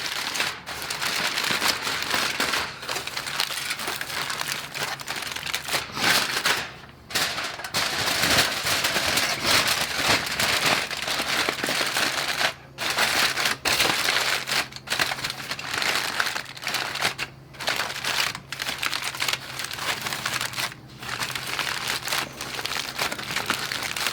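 Foil or butcher paper being crumpled by hand around the edges of a smoked brisket, a dense continuous crinkling and rustling up close with brief pauses, no talking.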